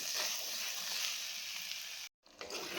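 Spice paste for a black sesame chicken dish frying in oil, a steady close hiss and sizzle that breaks off into a short silence near the end before resuming.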